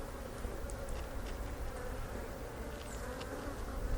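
Honeybees drone in a dense, steady buzz close by throughout an open-hive inspection, with no break or change in loudness.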